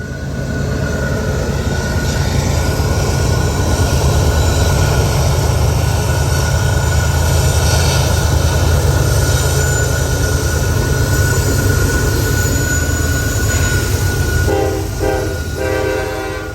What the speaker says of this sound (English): keep your eyes peeled for these helper locomotives. They can often be spotted heading up the mountain to assist one of the heaviest unit trains on the rails today